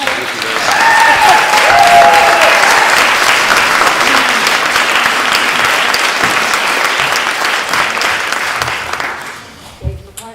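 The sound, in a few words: audience applause at a village meeting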